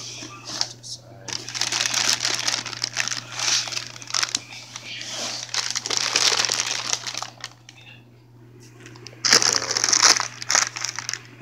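A plastic bag around zip-tied Function and Form Type 1 coilovers crinkles and crumples in close bursts while being unboxed, pausing briefly before a final loud flurry, with a steady low hum beneath and a voice talking.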